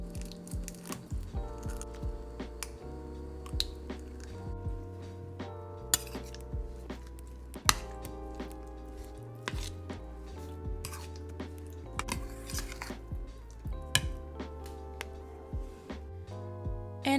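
Ricotta, mozzarella, parmesan and eggs being mixed in a bowl, with a utensil clinking and scraping against the sides in an irregular rhythm, close and fairly quiet, behind steady background music.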